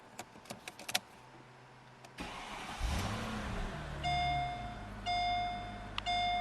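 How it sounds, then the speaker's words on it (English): A 2004 Mercedes-Benz SL500 engine cranks and starts with a rising roar, settling into a steady idle, preceded by faint clicks and jingling of the key in the ignition; a chime sounds repeatedly. "I'm going to start it up, actually, so you can hear the car."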